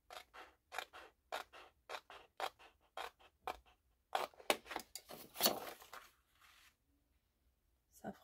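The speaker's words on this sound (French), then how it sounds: "Je vais essayer de faire en sorte de découper avec le petit tour de blanc tout autour." Scissors snip through cardstock for a handmade gift card in a series of close, crisp cuts in a steady rhythm, then a short burst of faster snipping before the sound falls quiet.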